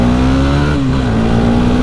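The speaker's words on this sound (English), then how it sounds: "Keep riding a little bit longer. This bike's fun." A Yamaha WR250R dual sport motorcycle ridden in Oregon, its engine a loud, close, steady drone with a slight pitch dip and recovery as the throttle shifts.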